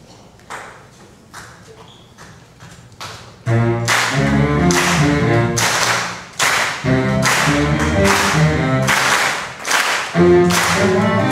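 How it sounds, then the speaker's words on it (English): An audience at a school jazz band concert claps along on beats two and four, sharp regular claps at first, then joined by a loud band playing with the clapping continuing throughout. "you want to clap on beats two and four"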